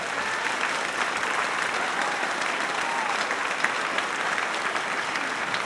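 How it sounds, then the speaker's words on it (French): Concert audience applauding loudly for the giant-puppet carriers on stage, a dense, continuous roar of many clapping hands sustained evenly throughout with no talk over it. "pour mes beaux petits porteurs, je vous demande de les applaudir bien fort"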